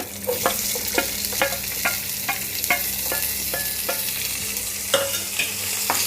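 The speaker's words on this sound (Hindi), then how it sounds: "हमें प्याज को जब तक फ्राई करना है" Steady sizzling of chopped onions frying in a pan over low-to-medium gas flame, with repeated scraping and stirring clicks from a utensil throughout, close and continuous.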